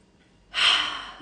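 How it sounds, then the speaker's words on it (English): A single deep inhale, soft and close, rising suddenly after a quiet moment and trailing off gently, taken during a calm guided meditation. "Take a deep breath in."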